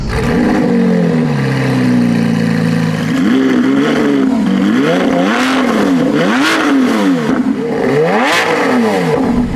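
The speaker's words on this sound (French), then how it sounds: "En 7ème place, une voiture très très impressionnante, la Lamborghini Aventador Ultimae." A Lamborghini Aventador Ultimae's engine revs repeatedly in loud, rising and falling sweeps, each blip climbing sharply then dropping back, with no one talking over it.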